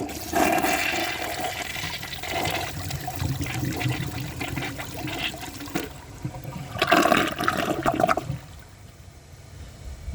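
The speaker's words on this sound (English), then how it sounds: "And now I'm going to flush it for a second time." A Mansfield Alto comfort height toilet flushes in a second test run, a loud rushing, swirling surge of water up close that drains away and trickles off, with no talk.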